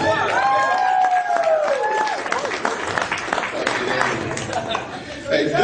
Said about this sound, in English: Give a round of applause for Chuck Fury.